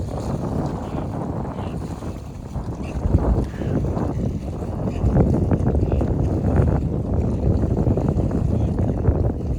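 Wind buffets the microphone on a choppy Lake LBJ while fishing from a boat, a loud rumbling roar with water slapping the hull throughout.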